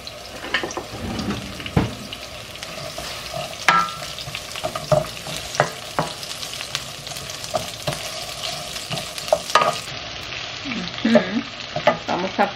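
Potatoes fry in a pan with a steady, close, crackling sizzle, dotted with pops and scraping stirs throughout.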